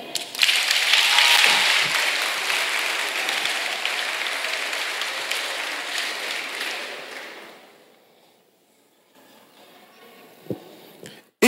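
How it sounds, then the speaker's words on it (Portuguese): An audience at a church sermon claps steadily for several seconds, loud at first, then gradually dying away into near silence with a few stray noises. "Quem está entendendo pode aplaudir."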